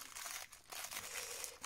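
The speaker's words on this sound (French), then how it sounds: "on va déballer ça." Scrapbooking mail being unwrapped: steady crinkling and crumpling of paper or plastic packaging, close and fairly loud, running continuously with brief dips.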